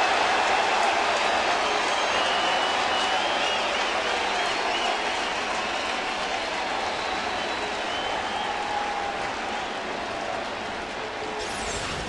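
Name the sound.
baseball stadium crowd reacting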